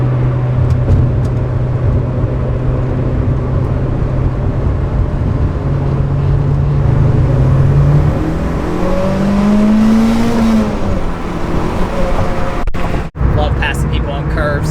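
A Mitsubishi Evo 9 pulls hard at about 30% throttle on a road, its engine note rising steadily in pitch and loudness from inside the cabin, with a sharp knock near the end.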